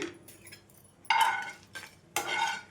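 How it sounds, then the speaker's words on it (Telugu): Dried red chillies roasting in a pan are stirred in several scraping, rattling bursts of a utensil against metal, close and fairly faint, with short pauses between strokes. "ఎండుమిర్చిని ఈ విధంగా వేయించుకోవాలండి"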